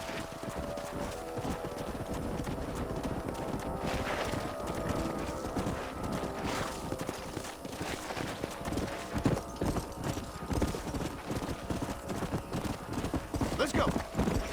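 Steady clip-clop of horse hooves in a video game under a busy, dense soundscape, with faint voices and an occasional whinny.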